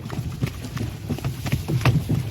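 Rhythmic clip-clop of a four-year-old draft mare's hooves at a steady walk, close by, with a low hum and faint background noise underneath.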